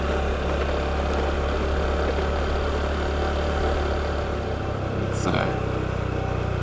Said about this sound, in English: Little vehicle that just goes where you point it.